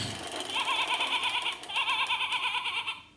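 A children's toy plays a recorded sheep bleat, two wavering electronic baa calls in quick succession, clear and close with no talking.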